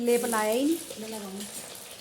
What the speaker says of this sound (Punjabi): ਤੜਕਾ ਇਹਦੇ 'ਚ ਲਾ ਲੇਗੀ